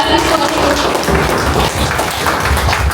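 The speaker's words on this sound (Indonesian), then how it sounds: "Kita kasih aplaus dulu kepada" Dense applause from a crowd at a high school class reunion gathering by a beach lounge, continuous clapping filling the whole moment, loud and close.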